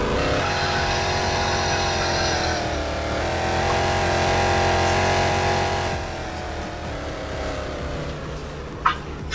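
Continuous high-revving car engine drone in a Roblox game, with a buzzy, electric edge, holding steady and then easing off, close and loud, with a brief chirp near the end.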